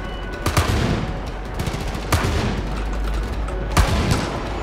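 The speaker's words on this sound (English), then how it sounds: "are they shooting me behind the walls?" Enemy gunfire in Far Cry 5, near-continuous loud bursts of automatic shots with a few heavier blasts, dense and close throughout.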